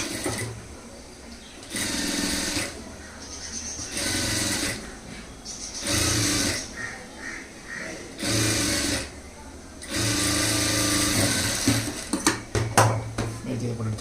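A sewing machine top-stitches a blouse lining onto the main cloth in repeated bursts of rapid whirring stitching separated by pauses, with a person talking in between and some clattering near the end.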